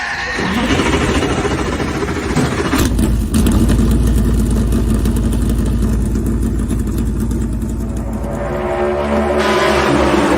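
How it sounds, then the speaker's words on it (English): Race car engines roar to life and keep running in a loud, steady drone at a NASCAR-style oval race in Atlanta, with a brief surge partway through and a crowd or announcer faintly beneath. "gentlemen, start your engine!"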